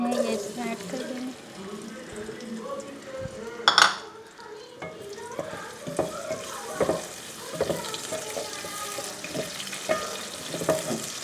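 Chopped green onion in about a cup of oil sizzles in a pan under steady stirring, with scraping and a sharp metal clank partway through, close and moderately loud.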